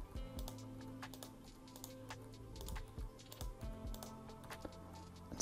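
A computer mouse gives a rapid series of quiet, close left-button clicks, many of them in irregular succession, over a faint room hum.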